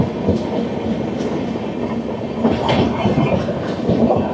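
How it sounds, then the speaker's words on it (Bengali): A Humsafar Express, the long-distance 12503 SMVT Bengaluru to Agartala service, rolls past close by, its rhythmic clickety-clack of wheels over rail joints loud and steady throughout, with no voices. "যে ট্রেন নাম্বার 12503 এসএমভিটি বেঙ্গালুরু থেকে আগরতলা হামসাফার এক্সপ্রেস"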